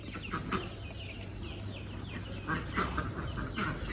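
Ducks in a garden quack and squawk in short scattered calls as they flee a spray of water, over a steady hiss of running water and outdoor noise.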